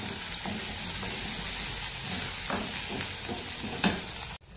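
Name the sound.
sautéing spices for tomato curry in a pan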